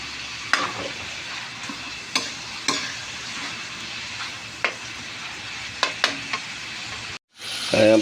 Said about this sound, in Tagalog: habang iniintay po natin medyo maprito-prito mag golden brown yung ating mga taba-taba